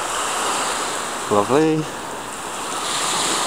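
Sea waves on the shore at Brighton, a steady, moderately loud surf wash with wind noise, briefly interrupted by a man's short spoken word and a chant-like voice in the middle.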